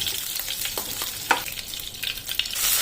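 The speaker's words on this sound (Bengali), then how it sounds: "যে তেলটা বেঁচে থাকবে সেই তেলেই আমি চিংড়ি মাছটিকেও ভেজে নেব" Prawns frying lightly in leftover oil in a pan, giving a continuous soft sizzle with scattered crackles and light spatters, fairly quiet and with no voices.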